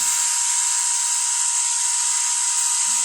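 A DRMG generator rotor spinning steadily, giving a continuous high-pitched whine with a constant pitch, close and loud, running alone without talk.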